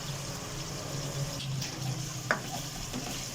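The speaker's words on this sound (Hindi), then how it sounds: "और इसे हम 30 सेकंड तक फ्राई कर लेंगे ताकि अदरक लहसुन का कच्चापन दूर हो सके" Ginger garlic paste frying with chicken pieces in a pan, a steady low sizzle with a few stirring scrapes and one sharp clink near the end, no talking.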